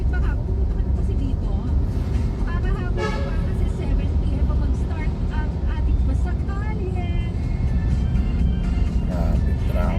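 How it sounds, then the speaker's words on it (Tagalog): Heavy road traffic in Metro Manila forms a dense steady rumble of engines with passing vehicles and occasional horn-like tones, while people chat nearby throughout. "Grabe, traffic."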